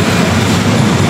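An LRT light rail train running between Vito Cruz and Dr. A. Santos stations in Manila, heard from onboard as a loud, close, continuous rumble.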